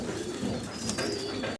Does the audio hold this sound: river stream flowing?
no